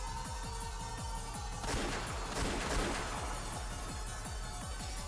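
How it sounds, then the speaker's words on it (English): Rapid bursts of automatic gunfire echo down a hallway in a scene from the Umineko visual novel, dense rattling shots repeating without pause over a constant roar and a louder surge midway, with no talking. "heard gunfire from down the hallway"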